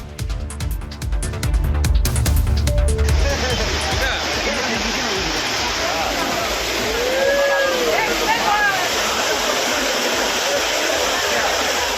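Water crashes down the Courtallam waterfalls in Tenkasi where tourists bathe. After a brief musical opening, a loud, continuous roaring rush of falling water fills the rest, with faint splashes and distant voices.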